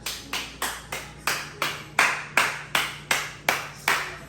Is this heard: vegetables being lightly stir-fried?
no